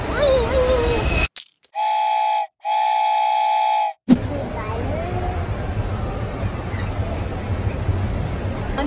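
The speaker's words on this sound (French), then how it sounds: "On est dans le petit train, hein?" A little tourist train ride in a shopping centre gives two long, loud steam-whistle-style toots. Busy indoor crowd noise and people talking surround them.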